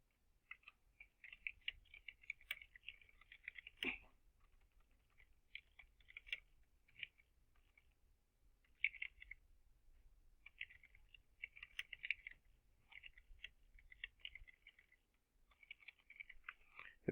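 Faint, sparse keystrokes on a computer keyboard come in short bursts and single taps separated by pauses, heard alone in a quiet room.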